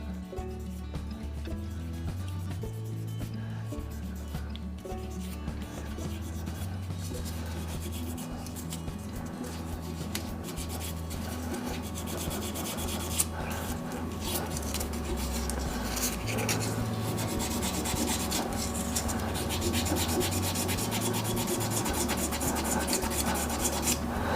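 Sandpaper rubs over a burl and resin shaving brush handle in a long run of close, steady scraping strokes, with no voices.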